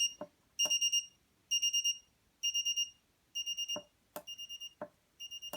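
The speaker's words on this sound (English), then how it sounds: "It's a magnetically driven, it's not a piezo buzzer." The alarm of an LED dot-matrix clock, driven by a magnetic sounder rather than a piezo buzzer, goes off in short bursts of four quick high beeps. The bursts repeat about once a second, with sharp clicks between some of them.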